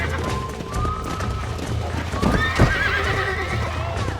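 A horse in Red Dead Redemption whinnies loudly and shrilly as its hooves clop and thud on the ground beneath it. A few game voices mix in near the struggle with the horse.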